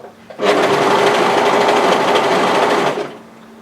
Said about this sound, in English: So we want to overlock these together from the waist all the way through to the side seam.